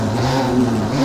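KTM 250cc two-stroke dirt bike revving hard on a motocross track, a loud close engine drone with shifting pitch over a brief second, no talk.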